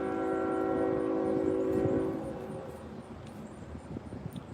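A Norfolk Southern or CSX freight locomotive sounds its multi-chime horn in one sustained blast at Dalton, Georgia, cutting off after about two seconds, followed by rumbling train noise.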